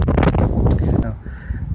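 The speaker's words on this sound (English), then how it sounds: "I'm sorry about the wind" Outdoor wind buffets the microphone in a public park in San Marco, Jacksonville, Florida, giving loud, low rumbling gusts that ease off toward the end.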